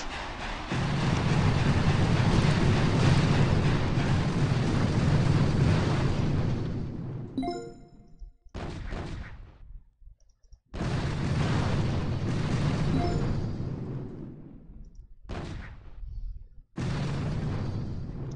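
Barrage artillery shells in the mobile strategy game Boom Beach burst in long, dense rolling bursts of booming explosions that stop abruptly and start again, loud and continuous with brief gaps of silence between salvos.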